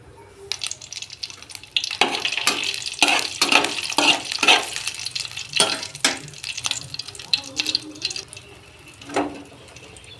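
Cumin, panch phoron, dried red chilli and slit green chillies frying in oil for a vegetarian drumstick-leaf and potato dish, a sizzling hiss with sharp spattering crackles and stirring clatter.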